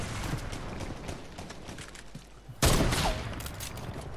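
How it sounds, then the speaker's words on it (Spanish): Gunfire in a Fortnite match: a steady background rattle of shots that erupts into a sudden loud burst midway, with a rapid fusillade continuing afterward. "Me disparan, lo veo, aquí al fondo."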